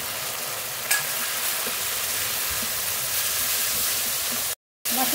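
Oil saved from the belly of freshly cut singhi fish is poured into spices being fried in a pan, raising a loud, steady sizzle that runs unbroken and cuts out briefly near the end.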